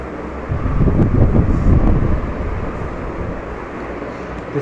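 A Crompton ceiling fan spins on its 12-pole motor, giving a soft, broad whoosh of moving air with a low hum that swells briefly and then settles into a steady, moderate drone.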